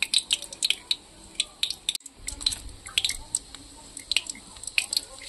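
Dried red chilies sizzle and spit in hot oil in a home kitchen, with a bay leaf already in the pan. Crackling pops and drips come close and fairly loud, with a brief stir partway through and no talking.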